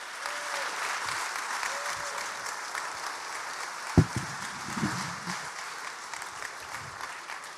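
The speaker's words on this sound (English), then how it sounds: "Give him a round of applause" Audience applause welcoming Roman Kemp at an Arsenal Supporters Trust 20th anniversary event, a steady wash of clapping with one sharp close clap and a few whoops, faint talk beneath.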